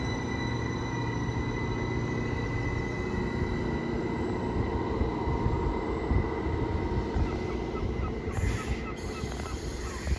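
A train at Grangetown station lets out a sustained high-pitched wheel flange squeal over loud, steady rumbling and rolling noise, close by, with a brighter squeal surfacing near the end and no voices.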